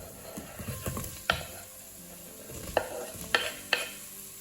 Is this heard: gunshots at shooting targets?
no